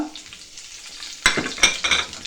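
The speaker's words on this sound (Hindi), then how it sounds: "यहाँ पे मैं करती हूँ फ्लेम को ऑफ और साथ ही डालूँगी ज़ीरा" Cumin seeds tipped into hot oil for a dal tadka, flame just switched off: a quiet start, then a sudden close sizzle and crackle with a few stirring clinks, fading and swelling in short bursts.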